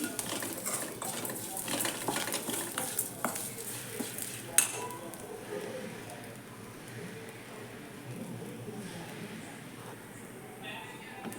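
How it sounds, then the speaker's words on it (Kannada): Rock sugar, cardamom and cloves being stirred into a herbal areca-nut powder, with steady scraping and clinking of a utensil against a pan, a sharp clink midway, and a voice talking throughout. "ಈಗ ಕೆಂಪು ಕಲ್ಲು ಸಕ್ಕರೆ ಹಾಕ್ತಾಯಿದ್ದೀನಿ ಆಮೇಲೆ ಅದಕ್ಕೆ ಯಾಲಕ್ಕಿ ಲವಂಗ ಎಲ್ಲ ಹಾಕಿ ಕುಟ್ಟಿ ತೋರಿಸಿದ್ನಲ್ವ ಅದೆಲ್ಲ ಈಗ ಮಿಕ್ಸ್ ಮಾಡ್ತಾಯಿದ್ದೀನಿ"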